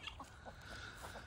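Chickens cluck softly in short, scattered bursts, fairly faint.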